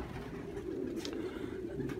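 Pigeons coo softly in the rain, a faint low murmur running steadily under a constant wash of rainfall.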